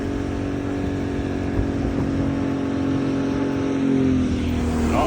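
An old boat's outboard motor held at full throttle, a steady loud droning engine hum with constant pitch throughout, close by and uninterrupted, with no talk.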